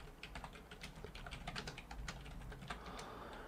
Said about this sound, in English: So I'm just going to type unit cost again.